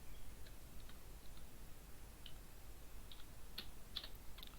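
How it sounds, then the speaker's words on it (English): Faint, sparse keystrokes on a computer keyboard tick through a steady background hiss, a few isolated clicks early and a small cluster near the end. "Then I am going to type"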